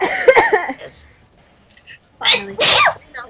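A sneeze bursts out sharply near the end, following earlier game-session speech and a couple of smaller noises, loud and close.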